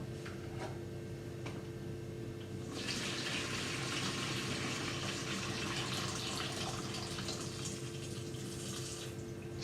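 Water runs from a tap into a kettle, a quiet steady fill that swells into a brighter rushing stream partway through and keeps going.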